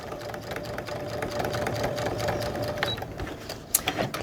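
Sewing machine stitching a cat quilt block, a steady rapid mechanical hum and needle chatter running for a few seconds before stopping, then small handling clicks.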